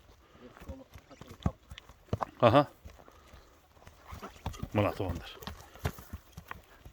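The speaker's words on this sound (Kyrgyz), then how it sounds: "Гүлбаардын сындуу аттарын тартып атабыз." Hooves of a Kyrgyz horse clip-clop on the ground at a moderate pace, fairly faint and interrupted by a few louder thumps, while people talk over them.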